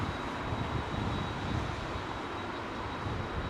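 Pratt & Whitney jet engines on airliners at London Heathrow, a steady broadband roar close by and loud, continuous throughout with no talk over it.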